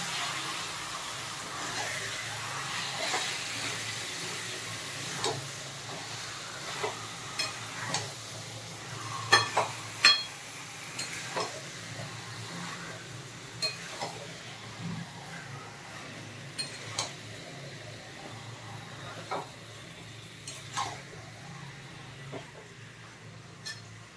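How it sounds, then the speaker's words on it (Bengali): Mutton curry sautés in a pan with a low, steady sizzle under a scattering of spoon scrapes and light clinks as it is stirred. "আমি বেশ কিছুক্ষণ কষিয়ে নিয়েছি"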